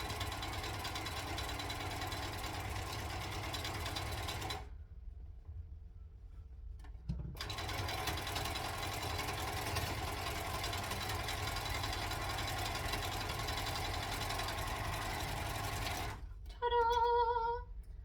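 A serger overlocking gathered dress fabric runs in a steady, dense mechanical whir, pausing briefly partway through before resuming and running on to the end.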